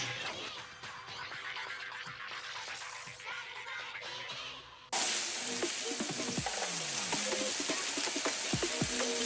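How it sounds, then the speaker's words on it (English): Food is stir fried in a pan over medium to high heat, a steady close sizzle with the scrape and clatter of stirring. Midway the frying jumps abruptly louder into a dense, crackling hiss, and no one speaks. "So for stir frying, you need a bit of a higher heat, so medium to high."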